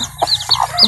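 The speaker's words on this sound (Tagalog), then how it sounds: "Ay mga piso." Baby chicks peep in short, high, chirping calls, several overlapping bursts close by in under a second.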